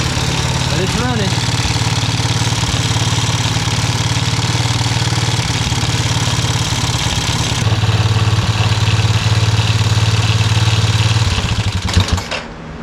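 Small engine idling unevenly right after carburetor adjustment, a loud, steady low rumble running throughout with a rough, wavering tone, and people talking briefly over it near the start.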